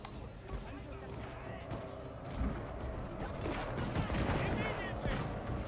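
Musket volleys from troops in Shogun 2 Total War crackle in repeated bursts of gunfire, growing denser and louder partway through, with battlefield din and a voice talking over it.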